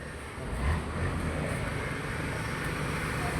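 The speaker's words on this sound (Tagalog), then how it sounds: "I-on natin yung motor." A Yamaha Sniper 150 motorcycle engine runs at a steady low idle, a continuous rumble with some wind noise and no distinct revs.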